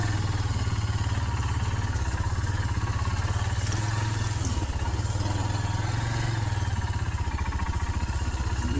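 A motorcycle engine runs close and continuously, a loud, steady, throbbing drone that holds its pace for the whole stretch, with no talk over it.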